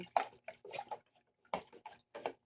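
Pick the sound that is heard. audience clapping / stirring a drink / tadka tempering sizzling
stirring a drink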